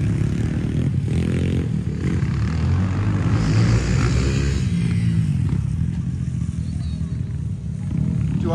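Kayo TT 140cc off-road motorcycle being ridden on an outing among friends, its engine buzzing and revving steadily at close range while people talk over it.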